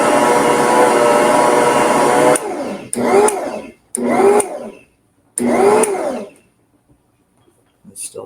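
A stand mixer kneads pretzel dough with a loud, steady motor whir. It then stops and starts in several short bursts, ending in quiet.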